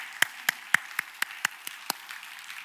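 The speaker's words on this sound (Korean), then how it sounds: "다시 한번 우리 하나님 앞에 영광의 박수 돌리겠습니다" A church congregation claps together at a Korean New Year's Eve service. The claps are sparse and evenly spaced, about eight sharp strikes in quick rhythm, then fade into quiet.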